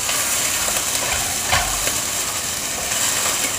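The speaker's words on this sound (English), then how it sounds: "So we get that pancetta and those potatoes in there and get them kind of toasty." Pancetta and potatoes fry in a pan, giving off a steady, close sizzling hiss that runs unbroken throughout.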